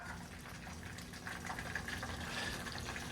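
Faint water splashing and sloshing near a stove while frozen beef cooks, a soft continuous watery hiss with a few small bursts, low in level and with no speech.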